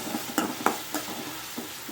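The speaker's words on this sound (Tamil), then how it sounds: "இந்த ஆனியனோட இந்த தக்காளி கருவேப்பிலை எல்லாத்தையுமே சேர்த்து நல்லா வதக்கிக்குவோம்" Onion, tomato and curry leaves sautéing in a pan for a dry fish thokku, with soft steady sizzling and several distinct stirring scrapes spaced through the clip, close and moderately quiet, no talking.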